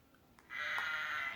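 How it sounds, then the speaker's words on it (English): A single sheep or lamb bleats once on a farm, a sustained nasal cry close by lasting under a second after a brief quiet lead-in. "Can you baa like a sheep? Let's hear what it sounds like."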